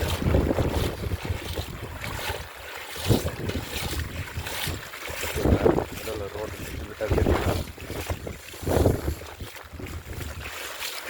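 Strong wind buffets the microphone at a beach during Cyclone Fengal, with sea waves surging in gusty bursts, while someone talks over the roar.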